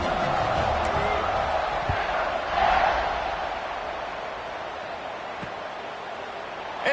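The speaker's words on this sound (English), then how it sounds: "this crowd is feeling themselves after that last drive" A stadium crowd at a college football game roars in a broad, sustained wash of cheering during a kickoff, swelling briefly midway and then settling.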